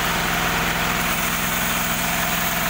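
A newly assembled sawmill machine's engine runs steadily at idle, a close, continuous low rumble with rhythmic pulsing and vibration, heard alone without talk.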